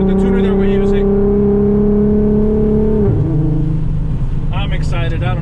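Fully built Audi RS3 with an R30 VR6 engine driving, a loud steady engine drone that drops pitch sharply as it shifts, with brief bursts of voice in the cabin near the start and end.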